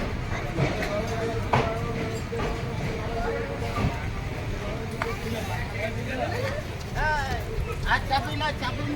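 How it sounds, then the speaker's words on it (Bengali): The Tatanagar–Asansol Express pulls out of Chandil station, a continuous rumble and clatter of wagons rolling close by, with scattered squeals and a babble of voices on the platform. "চান্দিল থেকে ট্রেন ছেড়ে দিয়েছে"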